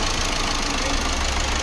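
A car engine idles steadily and loudly with a rough, knocking texture, its glow plug warning light lit, continuous throughout with no talk.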